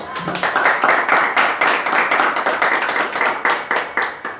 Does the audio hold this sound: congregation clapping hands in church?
yes